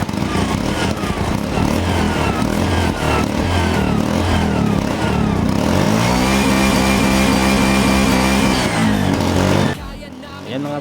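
A Bajaj RE engine idles and revs loudly and steadily for about ten seconds after its starter was fitted with new carbon brushes, with a harmonic hum shifting pitch before dropping away near the end.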